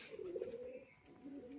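Pet pigeons coo beside their cage in a steady, low, rolling murmur that fills the whole stretch at close range, with no voices over it.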